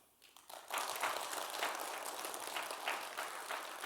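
An audience at a church spiritual seminar for pastors' wives breaks into applause after a quiet start, and the clapping stays sustained and even at a moderate distance to the end.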